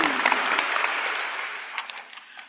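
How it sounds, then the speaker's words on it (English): Warm applause fills a room at a championship breakfast, a crowd clapping steadily at first and then tapering off into scattered claps over a couple of seconds. "Another big round of applause for them,"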